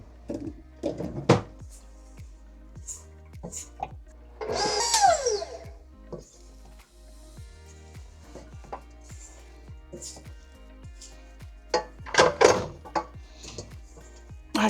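A stand mixer works bread dough in a kitchen, giving a steady low hum broken by rhythmic thumping and knocking as the dough slaps the bowl, with a couple of louder scraping bursts and no talk.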